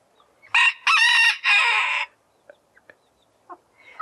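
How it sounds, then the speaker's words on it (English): A rooster crows loudly among chickens, a clear three-part cock-a-doodle-doo close by, followed by a few soft, scattered clucks and chirps in an otherwise quiet yard. "And of course, the rooster announces that he's here and he's taking care of things."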